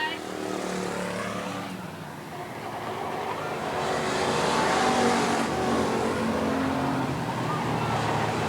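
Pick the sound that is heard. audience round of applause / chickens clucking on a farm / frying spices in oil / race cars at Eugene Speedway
race cars at Eugene Speedway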